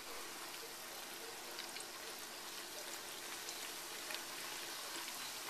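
Faint, even crackle and hiss of carnitas frying in hot oil in a big pan, a steady bubbling sizzle with no talk.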